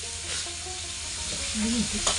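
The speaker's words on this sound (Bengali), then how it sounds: "এই যে মা বেগুন ভাজছে" Steady sizzling of eggplant frying in a pan, with faint scraping and stirring and a brief soft voice in the background.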